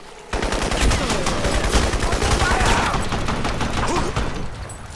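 Gunfire in the video game Crysis: a loud, nearly continuous stream of rapid shots and impacts that stays close and steady for several seconds before easing off near the end.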